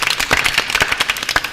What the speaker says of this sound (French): on va applaudir les BTS Communication deuxième année